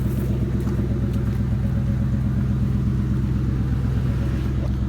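A car engine idles steadily nearby with a deep, even rumble and low throb, running continuously without talk.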